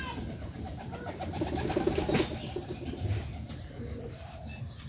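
Pigeons feed outside, a soft bubbling coo rising in the middle alongside scattered chirps and light rustling, fairly close.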